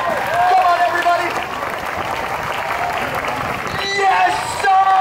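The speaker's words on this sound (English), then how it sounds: "Everybody clap, clap, clap, clap, clap." A busker show crowd at Sentosa, Singapore, claps loudly and steadily, with voices calling out over the applause.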